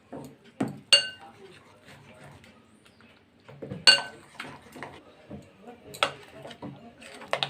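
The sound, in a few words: mixing flour and semolina with milk in a bowl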